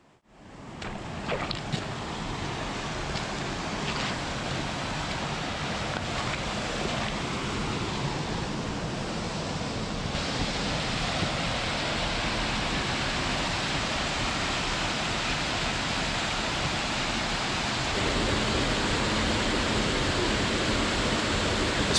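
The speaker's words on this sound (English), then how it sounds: "you've got these beautiful four waterfalls that we chose to visit first" Steady, full roar of rushing water, broad and constant from a waterfall close by at Nether Beck in the Lake District, UK, with no voices.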